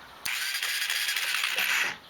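A Suzuki Quadrunner ATV engine cranks on its electric starter in a steady, close, fairly loud whir lasting about two seconds, with no catch or start, before cutting off.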